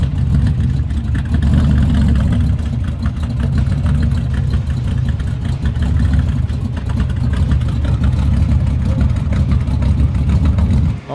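A Chevrolet Camaro muscle car idling, a loud, close, deep and steady engine rumble with slight roughness, running without a break.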